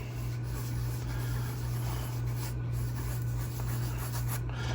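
A pencil rubs and scratches steadily across paper while someone draws. The sound is close and continuous, with a low electrical hum running underneath.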